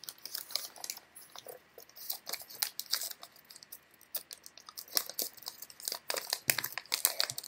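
Paper folded into origami creases for a Baby Groot figure, close soft crinkles and crisp creasing snaps in an irregular run, with no voices.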